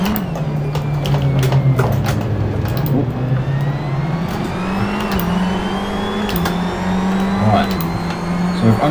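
A race car engine in Assetto Corsa holding full throttle, a loud steady drone stepping up in pitch through several gear changes, with scattered clicks and tyre noise over it.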